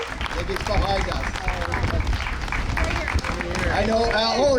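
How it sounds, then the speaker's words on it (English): Audience at a BC Day celebration in Port Moody applauding the festival director, with dense clapping and crowd hubbub mixed with cheering and voices, fairly loud and continuous. "How about a big round of applause for Al Lau?"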